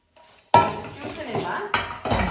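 Pots, plates and cutlery clank and clink while dishes are washed, a loud busy jumble after a brief quiet start, with a short pause near the end before the clatter resumes.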